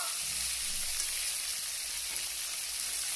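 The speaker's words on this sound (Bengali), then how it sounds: "এইভাবে আমি সব মাছগুলোকে ভেজে নেব।" Kuche fish, eel pieces, frying in hot oil, a dense continuous hiss of sizzling that stays steady and fairly loud throughout, with no voices over it.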